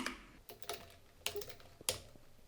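A computer keyboard being typed on while writing Solidity code, a few sparse, soft clicking keystrokes fairly close and alone without speech.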